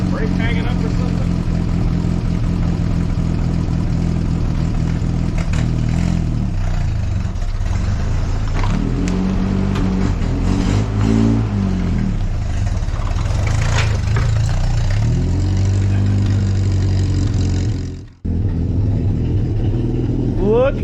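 A 1964 Jeep CJ5 engine, once stuck, runs loud and rough at close range, surging through repeated revs with a brief cut-out near the end, while voices talk over it.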